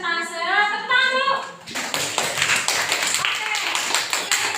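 Classroom group clapping together on cue after a student group's presentation, a dense burst of hand claps following a short stretch of voices, with children's chatter mixed in.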